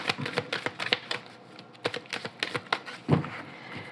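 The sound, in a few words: cutting a deck of tarot cards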